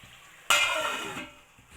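Fish pieces cooking in a curry in a pan give a short burst of sizzling and stirring lasting under a second, then fade to a faint simmer.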